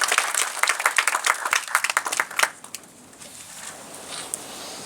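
Applause from an audience at a banking conference welcomes a speaker: dense hand claps, fairly close, building then fading out after about two and a half seconds into quiet room tone.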